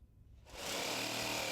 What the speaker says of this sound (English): We found for a nice clean cut, a jigsaw works the best.